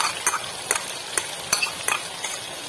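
Yogurt being stirred into sizzling chicken karahi in a Lahori restaurant-style curry: about half a dozen sharp scraping stirs land at a steady rhythm over a soft, continuous background sizzle, close and fairly loud, with no talking.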